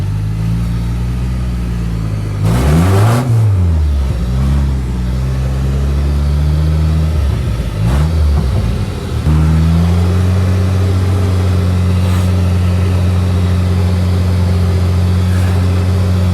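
The warmed-up engine of a four-wheel-drive vehicle idles loudly and close in a yard, rising in two short revs before settling back into a steady, even hum.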